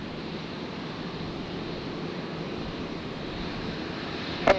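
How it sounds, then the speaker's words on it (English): A Jetstar Airbus A321neo jet arriving at Brisbane from Sydney, heard as a steady, moderately distant broadband engine roar that holds even throughout, with a brief sharp knock near the end. "The 321 Neo arriving from Sydney."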